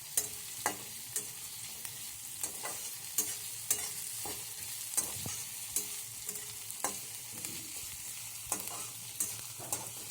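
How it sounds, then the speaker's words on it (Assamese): Chopped onions frying in hot oil in a pan, a steady close sizzle broken by repeated scraping stirs at an irregular rhythm, with no voices. "পিয়াজখিনি অকমান সময় ভাজি ল'ম।"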